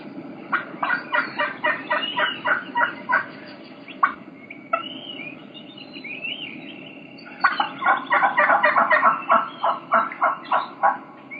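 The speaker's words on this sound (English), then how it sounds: "You can hear two hens doing the exact same vocalization, but you're gonna be able to tell that they're two different hens." Two wild turkey hens give the same call, one slightly deeper and raspier, as rapid runs of yelps in two long bursts separated by a few scattered notes, moderately close outdoors.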